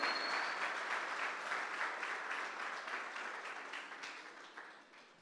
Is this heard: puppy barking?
no